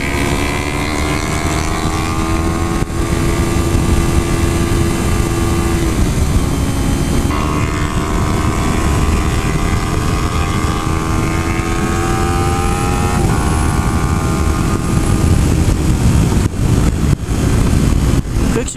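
A Kawasaki Ninja ZX-3R motorcycle rides at speed, its engine droning loud and steady with smooth gear shifts, and another bike works nearby; shifting tones rise and drop as they pass, over constant wind rush.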